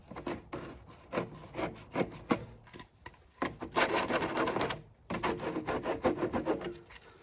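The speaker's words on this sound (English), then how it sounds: "You spin it on the other piece of pipe, on the inside and the outside." A length of pipe spun on another pipe piece to clean it gives close, repeated scraping and rubbing strokes in uneven bursts, with brief pauses between runs.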